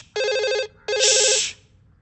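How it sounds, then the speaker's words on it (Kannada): A telephone rings in a comedy film scene: two loud electronic trilling rings, close and clear, separated by a brief pause, with no talk over it. "ಫೋನ್ ರಿಂಗ್ ಆಗ್ತಾ ಇದೆ"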